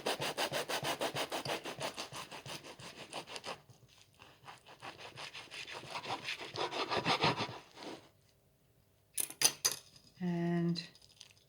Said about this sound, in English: I've got my trusty bread knife here. I'm just going to slice through this roughly in half.